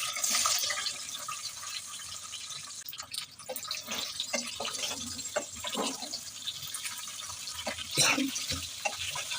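Dried jujubes (boroi) frying in hot oil in a pan for a sweet-sour-spicy pickle, giving a steady close crackling sizzle with scattered small pops and spits throughout.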